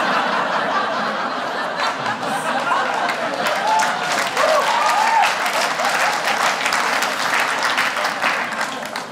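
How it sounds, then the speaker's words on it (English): Comedy special audience breaks into sustained loud applause mixed with scattered laughter and chuckles, a dense steady crowd roar lasting the whole stretch. "You guys just applauded bullies."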